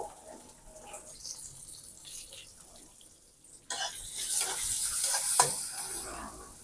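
Chopped onion sautéing in a pan for jowar ukadpendi, a quiet stirring and scraping that swells into a brighter, louder sizzle partway through, with clinks of a utensil near the end.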